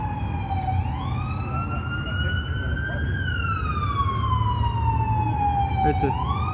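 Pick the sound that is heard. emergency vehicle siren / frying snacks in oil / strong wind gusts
emergency vehicle siren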